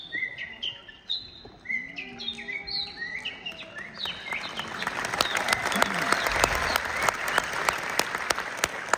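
A man whistles imitations of Shymkent songbirds, producing a run of quick, rising chirps and trills, followed by a burst of loud audience applause that continues to the end.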